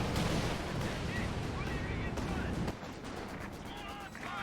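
A Brummbär tank fires a bunker-busting barrage in a strategy video game: heavy, continuous rumbling artillery blasts fill the scene, with a sharp drop partway through before the roar resumes.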